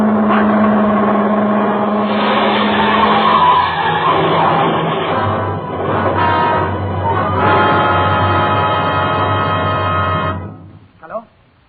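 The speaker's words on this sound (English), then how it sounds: "In my ears was the screeching of brakes, of tires taking a wild curve." A radio-drama sound effect of car brakes and tires screeching through a wild curve, a loud sustained squeal over engine roar that swells and falls, then cuts off abruptly with a brief knock.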